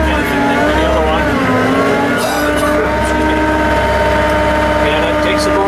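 A 2014 Skyjack VR642E boom lift's motor runs steadily at a loud, close drone as the boom extends, with a faint shifting whine over the engine hum and someone talking over it.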